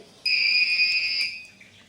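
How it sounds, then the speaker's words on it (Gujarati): A flame-sensor fire extinguisher system's buzzer sounds one steady, shrill electronic tone for about a second, clear and close, with no talk around it. "બઝર પણ વાગે છે અને આગ પણ ઓલવાઈ જાય છે."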